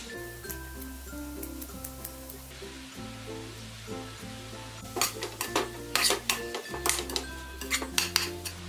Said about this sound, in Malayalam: മീഡിയം ഫ്ലെയിമിലിട്ട് ഇത് നമ്മൾ പെട്ടെന്ന് വഴറ്റിയെടുക്കുകയാണ് ചെയ്യുന്നത്.